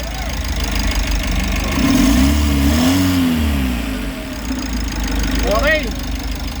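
A restarted car engine turns over and settles into a steady idle with a brief rev swell in the middle, heard close with people talking over it.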